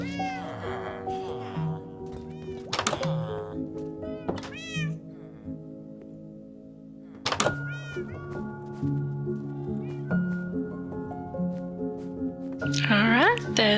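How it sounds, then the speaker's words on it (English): Minecraft cats meowing repeatedly, several close, clear mews spread across the stretch over a steady layer of in-game music and ambience, with a soft thunk or two. "Now let's start moving these cats in."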